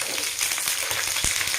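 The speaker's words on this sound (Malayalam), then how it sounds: "നന്നായിട്ട് ഫ്രൈ ചെയ്യുക. ഇതിലേക്ക് അരിഞ്ഞു വെച്ച മുന്തിരിങ്ങ ഇട്ട് കൊടുക്കാം." Grapes fry in a pan with ginger and curry leaves, a dense steady sizzle with a few soft stirring knocks, close and loud with no talk.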